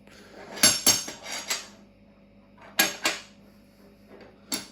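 Metal washers and a nut being undone on a 1957-1998 Land Rover camshaft bearing job, heard as sharp metallic clinks and clanks in two close clusters with a final clink, near and fairly loud over a quiet workshop hum.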